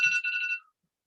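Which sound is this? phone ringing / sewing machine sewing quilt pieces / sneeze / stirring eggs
phone ringing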